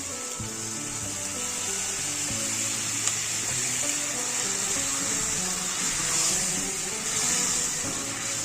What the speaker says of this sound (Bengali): এরপর টমেটোটাকে দিয়ে দেবো, অল্প পরিমাণে জল দেবো